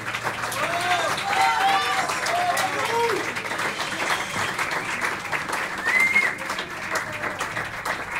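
Audience applause after a song at a live trio performance, broad steady clapping sustained throughout with cheers and whistles rising over it.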